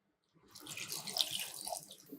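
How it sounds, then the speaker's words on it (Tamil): Milk pours steadily with a soft splashing gurgle into a milkshake, starting after a brief silence and continuing close by without any talk. "பால் ஊத்துறோம்."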